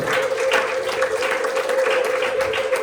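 A church congregation at worship applauds and ululates, dense continuous clapping from a crowd with a sustained high trill running through it.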